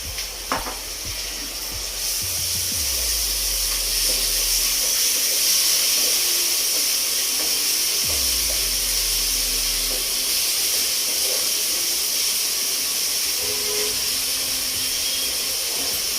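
Green chillies and garlic paste fry in hot oil, giving a steady loud sizzle and hiss that starts after a brief quieter moment and continues unbroken, with occasional low knocks of stirring.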